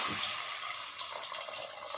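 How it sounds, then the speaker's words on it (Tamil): Water drained from soaked rice pours into a cooking pot for ghee rice, a steady splashing trickle that runs continuously and close by, with no speech. "அதனால் அந்த தண்ணியை இதில் அப்படியே வடிச்சுக்கிறேன்"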